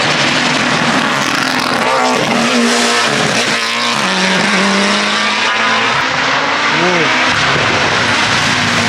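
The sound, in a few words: Audi race car at Gorjanci hill climb race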